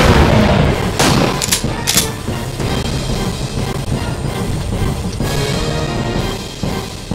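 Rapid bursts of gunfire in the Primeval Hunt arcade dinosaur-hunting game, loud and dense with sharp cracks and booming hits over a constant rumble of game noise.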